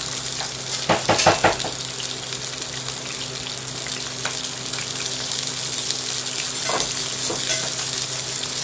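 A salmon fillet pan-searing skin-side in a hot pan gives a loud, steady, close sizzle throughout, with a few brief clatters early on and a short scrape near the end.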